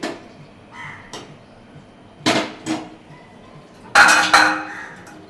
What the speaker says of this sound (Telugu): ఇంకో లిడ్ పెట్టి క్లోజ్ చేయడమే